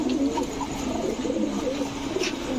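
A loft of Giribaz pigeons, including a Rajshahi male, coos in a dense, steady rumble close by, with soft overlapping calls and no voices.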